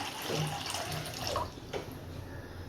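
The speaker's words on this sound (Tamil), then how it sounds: "அதில் வந்து ஒரு ரெண்டு கப் அளவுக்கு தண்ணி வந்து சேர்த்துப்போம்" Water poured from a cup into a clean pan while making javvarisi, a continuous close splashing pour with no talk.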